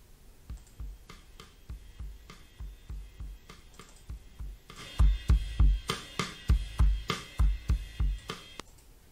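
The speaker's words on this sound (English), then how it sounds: "This is also from Unison. It's like this rocks thing I found. This is the OG version" A rock-hit sample from the Unison sample pack in its original form: a series of sharp, knocking percussive thuds in a loose rhythm, softer at first, then louder and more regular in the second half.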